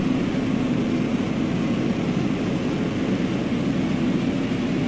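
Exterior engine drone of an aircraft in the X-Plane flight simulator at Innsbruck airport, a loud, constant propeller roar with broadband rushing noise and no pauses.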